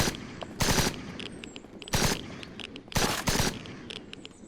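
Automatic gunfire in the zombie survival game SurrounDead comes in several loud, rapid bursts separated by short pauses, with quieter clicks and clatter between bursts as the worn gun jams.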